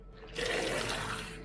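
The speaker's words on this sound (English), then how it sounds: "Then we go to the hose. Fill it up with some water." Water from a garden hose pours into a bucket for washing a Tesla, a steady rushing, splashing fill of moderate loudness that runs alone without talk.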